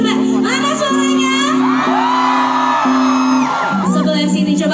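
A concert crowd at a show cheers, whoops and shouts loudly and continuously over steady sustained music, with the cheering swelling toward the end.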